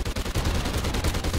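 Rapid gunfire in Call of Duty Ghosts, a loud continuous burst of shots with closely spaced cracks and heavy low thump, no speech.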